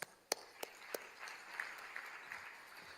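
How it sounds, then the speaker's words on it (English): Quiet audience applause at a stock exchange's 150th anniversary ceremony, beginning with a few distinct claps that swell into soft, sustained clapping. "a round of applause"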